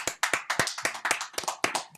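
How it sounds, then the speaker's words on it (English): A small group of studio guests claps during a charity show about premature babies in Africa, with loose, uneven claps close to the mic and no talk over them. "Just do some clap on the background."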